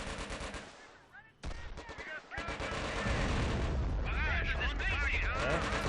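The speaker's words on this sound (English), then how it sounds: "mortar is in position" Mortar fire and other gunfire in the Company of Heroes Blitzkrieg game, with dense booms and bursts building to a steady loud barrage of explosions and shots.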